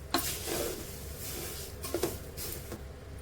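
A spoon stirring a poha flattened-rice snack mixture in a pan, with soft scraping and a few faint metallic clinks against a quiet background.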